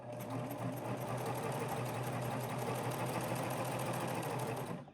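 Sewing machine running steadily as it stitches fabric along a curved seam for a lounge set, a continuous close, even motor whir and needle hum lasting throughout without pauses.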